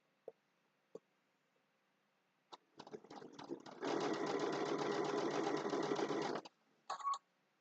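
A sewing machine stitching a zipper bag, starting with a few clicks, then a short uneven run followed by about three seconds of steady, fast mechanical whirring, then a brief final burst.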